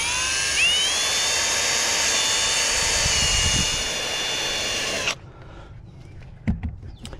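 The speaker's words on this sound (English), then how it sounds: "I'm going to take that same drill bit. I'm going to drill straight through." A power drill bores straight through material for a cooler installation, its loud, steady high-pitched whine running continuously for about five seconds before cutting off abruptly, leaving faint clicks and handling noise.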